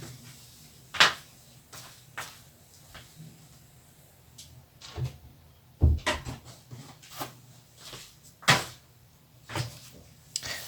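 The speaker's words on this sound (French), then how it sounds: "je vais fermer la porte" A door being shut indoors: a few sharp wooden knocks and clacks spread over several seconds, with quieter rubbing and handling in between, fairly close.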